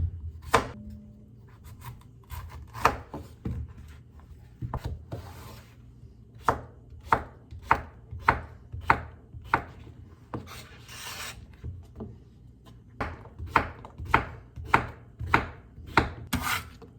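Knife chopping zucchini on a cutting board in a home kitchen, a long series of crisp close taps in irregular bursts, some quick runs and some spaced out, with no talk.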